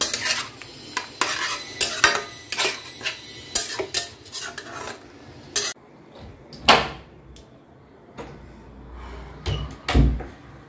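Metal utensils clatter and scrape in a pan as a Bengali fish curry with potatoes and raisins is stirred, with irregular sharp clinks and knocks, a quieter stretch midway, then a few louder isolated clanks near the end.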